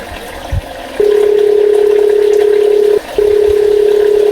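A telephone line tone sounds before a call in a Gujarati comedy sketch: one steady electronic tone holds for about two seconds, breaks briefly, then resumes, all clear and close.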